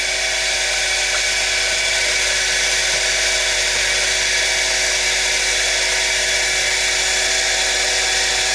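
A centrifuge spins steadily while cleaning contaminated diesel fuel, giving a loud, constant high-pitched mechanical whine with a hum beneath it, unchanged throughout and with no voices.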